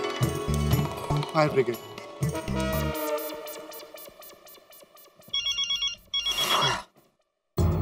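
A telephone rings in repeated electronic bursts, left unanswered, with some clinking and voices early on before the ringing cuts off into silence.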